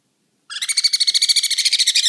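After a moment of silence, sun conure chicks burst into rapid, rhythmic raspy squawking, close and loud, pulsing quickly without pause.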